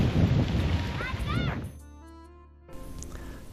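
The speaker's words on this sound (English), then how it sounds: "we are out in the garden area, and it's starting to rain" Rain begins falling over the formal French gardens of an estate in Nice, France, a broad hiss under a voice that fades out partway through before the wet patter returns.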